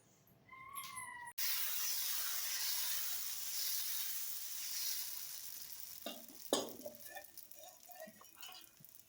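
Tomato dosa batter sizzling in oil on a hot pan, a bright steady hiss that swells after a short quiet start, with a few clinks and faint voices near the end.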